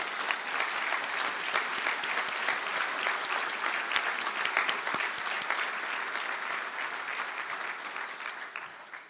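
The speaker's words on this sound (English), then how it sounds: "please stand up for a well-deserved round of applause" A large audience at a Galway conferring ceremony applauds engineering graduates, steady dense clapping filling the hall for about nine seconds, tapering slightly at the end.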